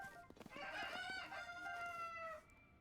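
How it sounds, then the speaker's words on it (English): A rooster crows in Zelda: Tears of the Kingdom, one drawn-out cock-a-doodle-doo with a few clucks before it, clear and fairly close against a quiet background. "it's the cockerels that make cockle-doodle-doo sounds"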